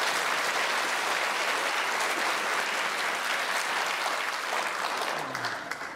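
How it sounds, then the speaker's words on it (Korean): A church congregation at a Christmas service claps together in loud, sustained applause that holds steady for several seconds, then thins and fades at the end. "마음 모아서 박수 한번 하도록 하겠습니다"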